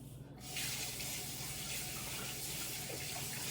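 Tap water running steadily as a whisk is rinsed under it in a kitchen sink; a faint hiss gives way to a continuous splashing stream that stays even to the end.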